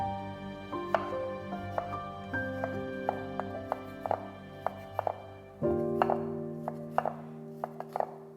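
Knife chopping a Roma tomato on a cutting board, a dozen or so sharp thunks in uneven bursts, close and clear, with a steady tonal hum running underneath.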